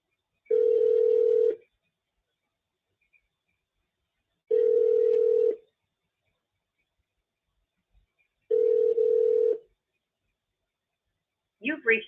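Three steady one-second tone bursts on an automated phone line, evenly spaced about four seconds apart, clean and alone, followed by a brief warbling tone at the end.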